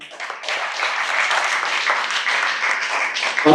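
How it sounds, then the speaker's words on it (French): An assembly audience at a founding general meeting applauds steadily, a dense, loud wash of many hands clapping that keeps going for several seconds with no voices over it. "je vous demande encore quelques applaudissements à l'endroit de ces 21 membres"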